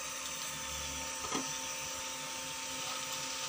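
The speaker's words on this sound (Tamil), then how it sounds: "இப்போ நம்ம பூரியை போட்டு பொரிச்சிடலாம்." Poori dough deep-frying in hot oil gives a steady, close, dense sizzling hiss that holds evenly throughout, with one brief bump partway through and no voices.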